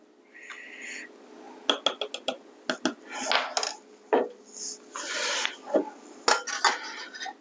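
Flour, salt and baking soda get stirred in a bowl, producing a string of close, sharp clinks and scrapes of utensil against the bowl, irregular and quick, with soft rustling in between.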